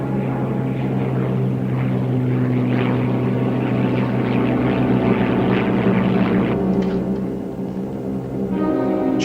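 A P-51 propeller fighter drones steadily in flight at about 11,000 feet, a loud, continuous engine hum with faint crackles near the end and no voices.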